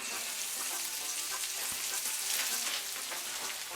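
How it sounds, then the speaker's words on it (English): Calf liver frying in a pan, a loud, dense sizzle and crackle that runs steadily with scattered pops and a faint scrape of stirring, no voices. "Let her get to frying"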